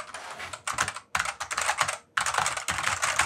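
Rapid typing on a Franklin PC-8000 IBM-compatible computer keyboard, a dense clatter of close, loud keystrokes in several bursts with brief pauses between.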